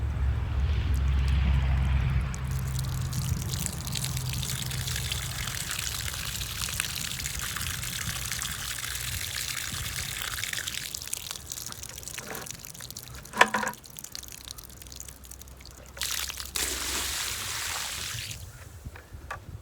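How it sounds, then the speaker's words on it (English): Water spills steadily over the front edge of a pail while new Duke 550 Pro coyote traps are degreased, a continuous pouring, rushing wash that fades toward the end, with a few knocks and splashes. "as that water is spilling over the front of this pail"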